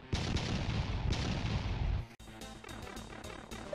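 Loud, rapid booming blasts and crashes pile up in a dense barrage, then give way to quicker, lighter bursts.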